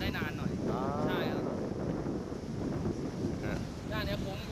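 Strong wind blusters steadily against the microphone in an open outdoor spot, a loud continuous rushing roar with people talking over it at moments.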